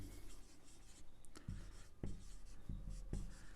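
Chalk or marker strokes on a classroom board during a chemistry lesson, a few sharp taps and scrapes spaced about half a second apart, fairly close and clear with no talking.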